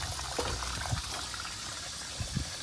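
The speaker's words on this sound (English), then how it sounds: "the tap is on and it's flowing in there" Water runs from a tap into a pond chamber, a steady, dense splashing gush with a few brief bubbling plops and no talk.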